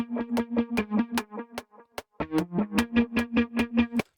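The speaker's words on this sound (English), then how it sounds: "the pulse is all being, you know what I'm saying, generated by this particular LFO waveform" A synth tone in Reason pulses rhythmically under a sine-wave LFO panning effect, giving a steady throbbing pattern of evenly spaced beats with a short pause midway.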